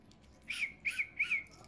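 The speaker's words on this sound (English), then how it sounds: "And a whistle." Three short, shrill whistle toots in a quick sequence, fairly close and clear, with no talking.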